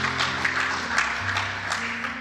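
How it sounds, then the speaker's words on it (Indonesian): A church youth congregation gives a moderate, steady round of clapping, a dense patter of many hands heard at mid distance for a couple of seconds. "Tepuk tangan dong untuk papanya Doris Patrick"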